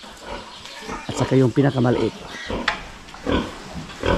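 Pig on a farm grunting and squealing in a few loud rhythmic bursts up close, with a person speaking briefly alongside.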